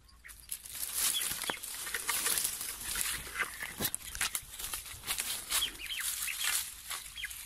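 Laughingthrushes (bồ chao) call near a nest in the wild, a rapid run of harsh, chattering and squawking notes repeating irregularly and fairly close, with some fluttering in between.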